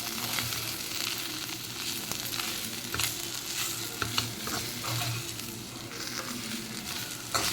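Lentil powder frying in a pan, with a steady loud sizzle and continuous close stirring and scraping throughout, no voices.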